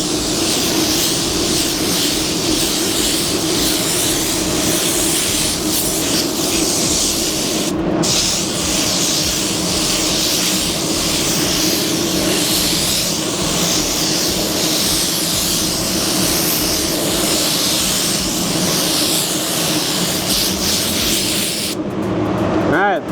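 A spray gun lays a second coat of Sherwin Ultra 9k paint with a loud, steady hiss that runs almost without pause, cutting out only briefly once partway through.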